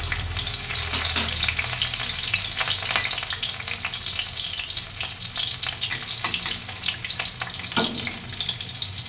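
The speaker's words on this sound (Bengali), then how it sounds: "যে তেল বসিয়ে দিয়েছি কাঁচা লঙ্কা দিচ্ছি" Green chilies crackle and sizzle in hot oil in a home kitchen, a steady close frying hiss with a few sharper pops and spatters, and no voices.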